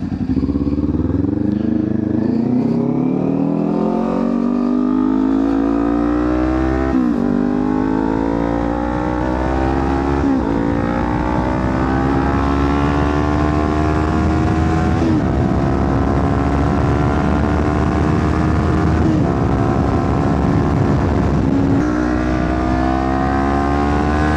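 A Kawasaki Ninja 400 motorcycle on an expressway, its engine loud and close as it revs up through rising gear pulls with brief dips at each shift, steady wind roar underneath and no talk.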